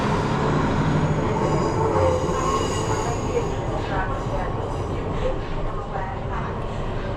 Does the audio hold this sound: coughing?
no